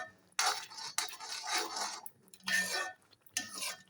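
A spoon stirring thick halwa made with rice water in a pan: repeated scraping, sloshing strokes in bursts with brief pauses between, close and distinct.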